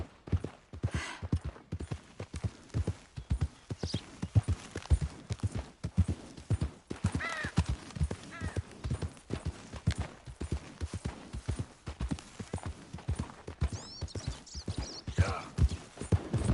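Horse hooves clip-clopping in Red Dead Redemption II, a steady rhythmic walking gait, moderately close, with a brief whinny and soft ambient game sounds and faint voices in the background.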